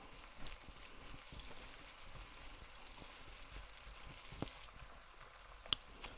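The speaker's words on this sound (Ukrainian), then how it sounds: "Цибулька жариться." Onions frying in a pan, a quiet steady sizzle with soft crackles and a couple of sharp pops near the end.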